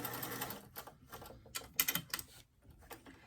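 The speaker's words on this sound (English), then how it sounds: "You're running this gather stitch about 1/8 of an inch from the edge of that sleeve cap" A sewing machine runs a gather stitch along the edge of a doll-top sleeve cap in short, quick rattling bursts, close up, separated by brief pauses.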